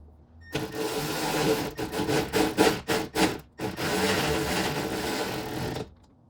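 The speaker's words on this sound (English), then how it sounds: "attempt to just start it with the power tool" A power tool whirs up close during a window regulator replacement on a 1999 Pontiac Grand Prix, sputtering in short bursts before settling into a steady, loud grinding hum that cuts off abruptly.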